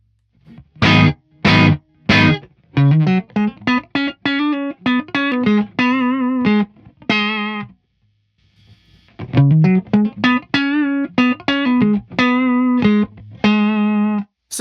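Clean electric guitar without a compressor playing a plucked melodic phrase twice, distinct notes with clear attacks and sustained decays, a short pause between phrases.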